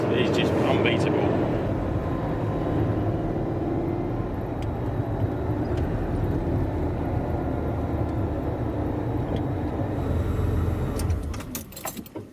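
Ferrari Berlinetta Boxer flat-twelve engine on the open road, a loud, continuous low roar and drone that holds steady, then cuts off abruptly near the end.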